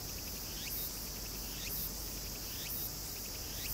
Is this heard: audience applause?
no